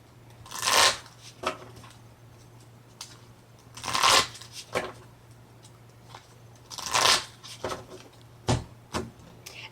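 Pokemon trading cards are riffle-shuffled in three crisp, close bursts a few seconds apart, with small taps and clicks of the deck in between.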